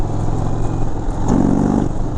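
A 2019 Indian Chieftain Dark Horse motorcycle with a 116 big bore engine rumbles loud and close during a demo ride, its deep engine note swelling briefly as the throttle is blipped, with no talk.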